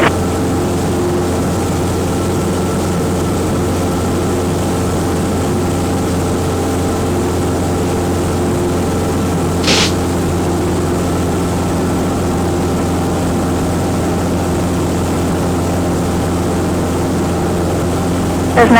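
Cessna propeller engine droning steadily in flight, loud and continuous from start to finish, with a brief burst of radio static partway through and no clear talk over it.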